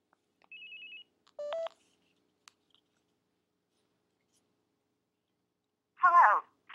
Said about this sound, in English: call this toll-free number, which I'm going to do now with my cell phone so you can hear what it sounds like